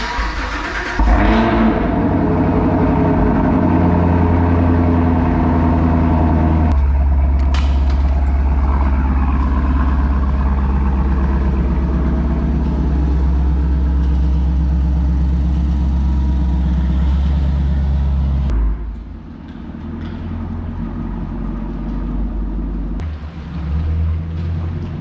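A 1980 Pontiac Trans Am's engine cranks and catches on a cold start, then runs at a loud, steady, rumbling idle close by before dropping in level near the end, no talking.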